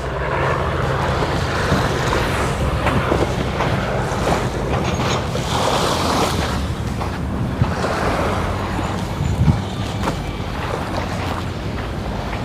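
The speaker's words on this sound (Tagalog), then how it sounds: "Sarap maglakad dito sa dalampasigan ng Manila Bay." Waves wash continuously onto the sandy shore of Manila Bay, heard as a dense roar mixed with strong wind buffeting the microphone.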